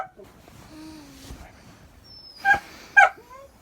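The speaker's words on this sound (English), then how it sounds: "this dog just woke me up to go to the bathroom" A German Shepherd puppy whimpers in the early morning, giving thin whines followed by two sharper yips. The sounds are close and fairly quiet, with no talk over them.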